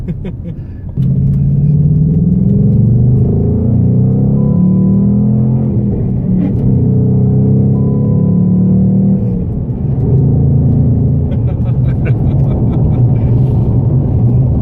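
A 2019 Ford Mustang Bullitt V8 is being driven, with a loud, steady low engine rumble from inside the car that rises and falls slightly as it cruises. There is no speech.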